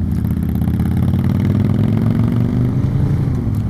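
A motorcycle engine pulls away from a stop on a rider training course as the clutch is let out, a steady, loud, close mid-pitched drone that rises slightly in pitch toward the end, with no talking.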